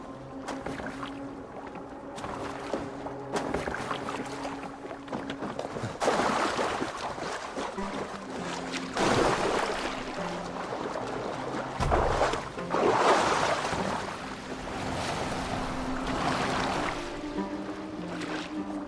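A boat moves across water in Assassin's Creed Valhalla, with a steady wash of water and wind and creaking hull sounds throughout, and no voices.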